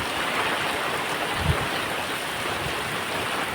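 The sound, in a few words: rain pouring down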